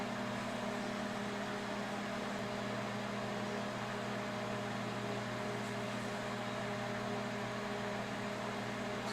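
A microwave oven runs while keto bread cooks in a mason jar, giving off a steady, even hum with a constant mechanical drone and no change in level throughout.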